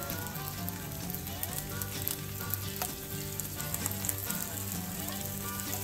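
Chicken pieces fry in a pan of grass-fed organic butter for a keto stir fry, giving a steady, loud sizzle and crackle with occasional stirring scrapes and pops throughout.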